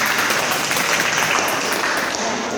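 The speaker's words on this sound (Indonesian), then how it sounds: "Jadi tepuk tangan" Classmates applaud after a group presentation in a teaching-skills class, a steady continuous wash of many hands clapping at fairly close range throughout.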